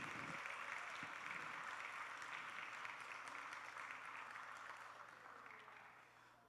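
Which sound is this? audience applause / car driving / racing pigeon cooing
audience applause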